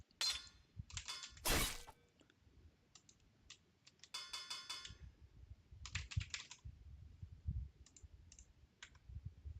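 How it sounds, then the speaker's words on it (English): A computer keyboard shifted and bumped around on a desk gives sparse, quiet clatters and sharp clicks in irregular bursts, with faint low rustle between them and no voices. "it's almost certainly me moving the keyboard"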